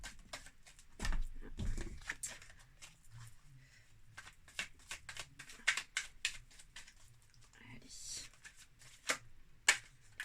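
Tarot cards being shuffled and flipped in a dense run of quick, crisp riffling snaps and soft slaps, close and fairly quiet, with a few cards flying loose and faint voice in the background.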